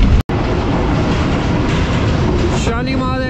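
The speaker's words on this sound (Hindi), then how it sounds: "शालीमार एक्सप्रेस इस वक्त अप्रोच कर रही है सांगला हिल जंक्शन रेलवे स्टेशन पर" The Shalimar Express approaches Sangla Hill Junction station in winter fog with a sustained rumble of rolling wheels and carriages, close and loud. A brief break comes early on, and a tonal squeal or horn-like hum emerges toward the end.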